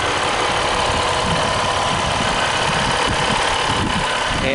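A Ram 1500 Longhorn Crew Cab 4x4 with the EcoDiesel turbo diesel engine idles in a dense, even, fairly loud clatter and rumble that holds steady throughout, with no one speaking.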